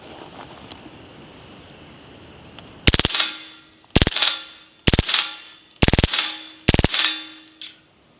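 Five sharp, suppressed rimfire rifle shots with CCI standard ammunition at about 1070 feet per second, each a short crack with a metallic ring, fired close by at roughly one-second intervals after a quiet pause.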